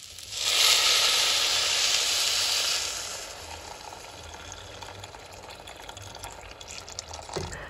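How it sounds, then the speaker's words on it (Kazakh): Boiling hot water poured over frying liver in a pan sends up a loud, rushing hiss that lasts about two seconds, then settles into a softer, steady simmering bubble. "үстіне қайнап тұрған ыстық суымызды құйып"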